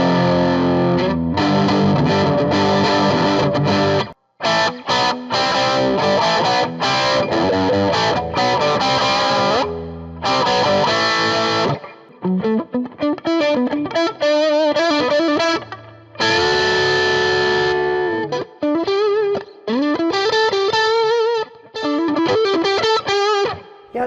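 A PRS SE Custom 24 electric guitar on its neck pickup, played loud through a distorted amp with chorus-like shimmer, strummed chords and ringing single-note lines filling the whole stretch with only brief gaps.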